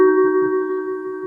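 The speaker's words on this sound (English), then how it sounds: "That's my phone ringing." A phone rings during an Inland Wetlands Commission meeting, sounding almost like a European phone: a steady, sustained electronic tone held close and fairly loud for the whole moment, with no talking over it.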